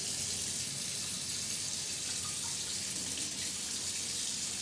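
Warm tap water runs steadily from a kitchen faucet to make pizza dough, a constant close hiss and splash with no gaps.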